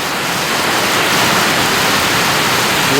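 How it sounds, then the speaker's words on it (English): A crazy storm with hail lashing a farmyard where free-range ducks roam, dense, loud, continuous hiss of heavy rain and water pouring without a break. "It's actually a crazy storm."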